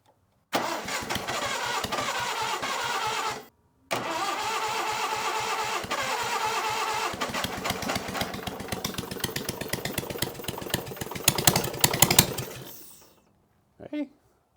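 An old Case trencher engine cranks and catches, then runs with a loud, rapid chugging that grows rougher and louder before cutting out, followed by a short burst near the end.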